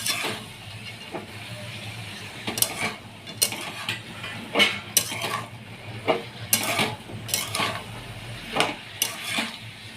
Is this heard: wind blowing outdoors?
no